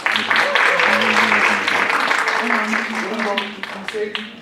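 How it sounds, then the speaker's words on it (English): A round of applause breaks out at a student leadership academy winter workshop, sustained clapping from a room of participants with voices talking over it and fading toward the end. "Give a round of applause."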